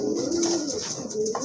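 Large, fresh pigeons offered at a market coo in a soft, low, sustained murmur nearby, over a steady hiss of background noise.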